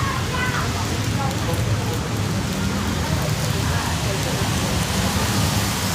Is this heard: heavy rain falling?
yes